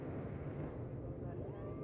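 A passenger airplane accelerates down the runway at full takeoff thrust, a deep continuous engine roar with a tone rising in pitch, heard from inside the cabin at moderate level.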